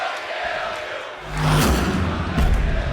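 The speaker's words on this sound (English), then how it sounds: "And the crowd are letting the other women know who they think is the favourite here." Wrestling arena crowd at a women's match, a dense roar of voices that swells loudly midway into cheering and shouts, sustained to the end.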